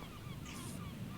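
A bird lets out a short burst of faint, raspy honking squawks over a soft windy background. No talking is heard.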